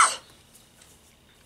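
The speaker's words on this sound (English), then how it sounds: "That's not the Corona cough." A single short, sharp cough right up close at the very start, followed by near silence.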